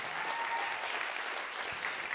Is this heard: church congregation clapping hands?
yes